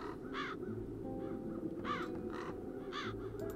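Crows cawing in the video game Chains of Satinav, five harsh caws in irregular spacing over a low ambient background drone, no talk.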